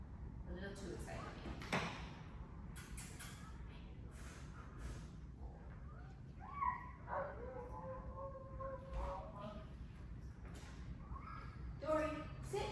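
An excited dog barks in short bursts and lets out high whimpers and yips, fairly close, mixed with a person talking calmly over it.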